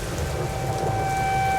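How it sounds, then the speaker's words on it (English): Heavy rain pours down during a Michigan thunderstorm under a tornado warning, a loud, dense, steady roar with a low rumbling undertone and a faint constant electrical tone. "In fact, we've even had some storms develop."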